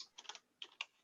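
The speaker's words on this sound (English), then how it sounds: "Sorry, I'm just typing it in." Keystrokes on a computer keyboard, quiet and close, tapped in two short bursts of several quick clicks with a brief pause between them.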